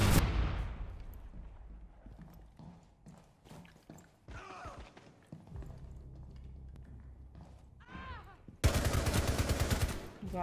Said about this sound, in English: they're shooting the bodies.